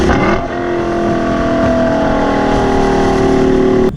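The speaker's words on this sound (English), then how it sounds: "You downshift and you get that nice blurp of the throttle" A 2018 Lexus LC500 V8 gives a loud, sustained engine drone that swells and holds steady during a downshift throttle blip, then cuts off sharply at the end.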